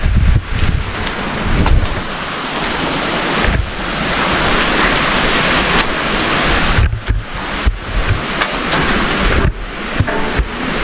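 A small stream flows beside a footbridge at a campsite in Chaloem Rattanakosin National Park, Kanchanaburi, giving a steady, fairly loud broadband rush of running water with brief dips and splashy surges, no voices.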